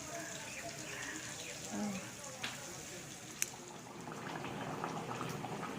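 Rice bubbling as it boils in a pot, a soft continuous simmer close by with a couple of small clinks, while a voice talks faintly over it.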